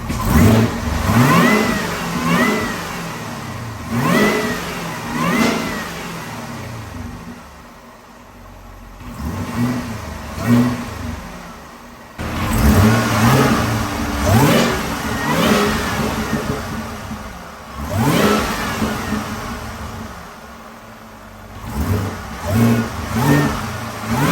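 A powerful supercharged LT4 V8 in a Camaro ZL1 repeatedly revs up and drops back, with a high supercharger whine riding over the roar, close and loud, no voices.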